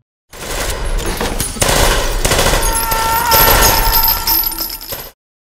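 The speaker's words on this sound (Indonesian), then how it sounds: "JJ berhasil mengambilnya, lalu menembak teman-temannya yang telah menjadi zombie." Gunfire in a Resident Evil zombie film scene as a character shoots infected companions: dense, loud bursts of rapid shots over about five seconds, with no clear speech.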